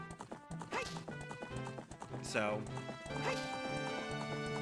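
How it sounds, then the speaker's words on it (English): In the Ocarina of Time video game, the horse Epona trots in with clip-clopping hoof steps and a neigh, layered over steady game music, while someone speaks briefly near the start. "Playing Epona's song will now call Epona to you."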